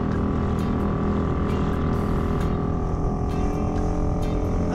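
A small Honda outboard motor on a fishing kayak running steadily: a close, constant buzzing drone that holds at an even pitch throughout.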